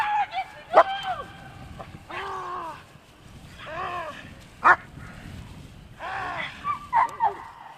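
Several dogs fight, snarling, yelping and barking in bursts while people shout over them, the scuffle rising and falling in short, frantic spells.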